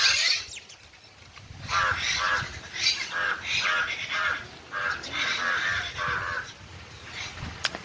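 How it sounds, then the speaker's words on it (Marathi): A flock of crows caws and squabbles outdoors, harsh calls coming in quick overlapping bursts, mostly close and fairly loud, with brief quieter gaps between the clusters of cries. "कावळ्यांचे आणि कर्कोशांचे भांडणं चालू एवढे कावळे आले होते भांडायला"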